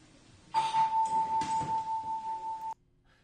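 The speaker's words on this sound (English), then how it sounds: "watch how much different he is now when I have my son ring the doorbell" An electronic doorbell rings with a steady sustained tone, fairly loud and near, lasting about two seconds before cutting off.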